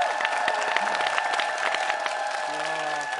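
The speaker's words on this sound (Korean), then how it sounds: "큰 박수 부탁드립니다." Audience applause for a solo stage performance on a TV show, steady clapping with crowd noise and a voice briefly heard over it, with musical tones underneath.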